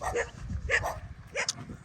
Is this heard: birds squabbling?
no